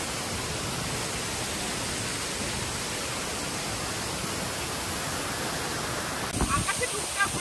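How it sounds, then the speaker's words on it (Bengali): Rimbi waterfall in West Sikkim, heard in the rain as a steady, loud, broadband rush of falling water that holds unbroken throughout, with a brief clatter near the end. "আমরা দাঁড়িয়ে আছি রিম্বি ওয়াটারফলসের সামনে"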